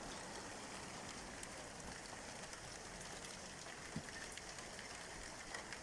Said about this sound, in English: This is the UK in my back garden, showing you the rain falling.